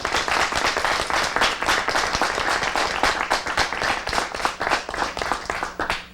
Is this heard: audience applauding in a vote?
yes